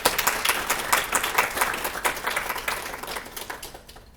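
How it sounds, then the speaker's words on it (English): Audience applause after a speaker is introduced at a business talk, a dense burst of many hands clapping close and loud, gradually thinning and fading out over a few seconds with no talking. "can I get a round of applause for Katie Menard?"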